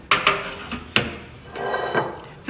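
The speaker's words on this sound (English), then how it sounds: "And let me get this out of the oven" A dish of ham and cheese dip being taken out of a home oven: a few sharp clanks and knocks of metal and cookware, then a rattling shuffle and another clatter, close and fairly loud with no talk.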